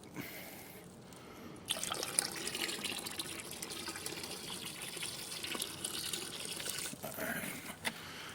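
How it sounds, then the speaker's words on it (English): Crud Cutter multi-purpose pressure washer concentrate degreaser, about half a cup, is poured into water. It makes a faint, soft trickling and splashing that swells after a quiet start, with no voices. "I'm going to throw in approximately half a cup of the Crud Cutter multi-purpose pressure washer concentrate degreaser"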